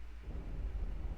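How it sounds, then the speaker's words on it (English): Stormy thunder ambience from Minecraft, a low rolling rumble that swells after a quiet start, with a wind-like wash over it and no voices. "you could hear a sort of stormy kind of sound effect coming from there"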